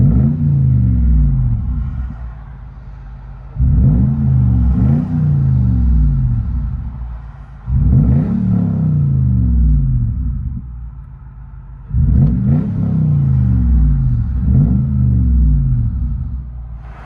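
Heard from inside the cabin, a straight-piped 2005 Lexus GX 470 V8 drones with a deep boom, surging in repeated revs between lower idle stretches.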